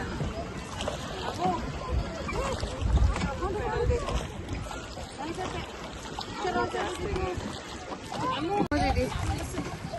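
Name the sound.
boat ride on a lake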